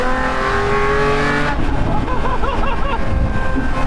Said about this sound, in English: being in a Zonda and just hearing that V12 just wail is incredible